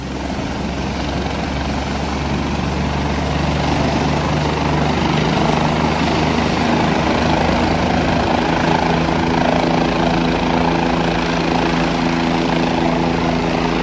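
A helicopter on a flight to Kedarnath with its rotor spinning up to speed for takeoff, heard as a loud, continuous, close engine and rotor roar that stays constant throughout.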